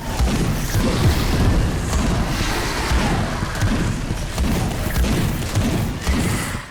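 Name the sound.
shotgun firing in video game Space Hulk Deathwing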